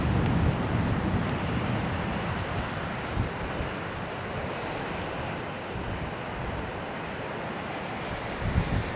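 Sea waves surge and wash along the rugged Causeway Coast of Northern Ireland, a steady broad roar mixed with heavy wind buffeting the microphone, no voices heard.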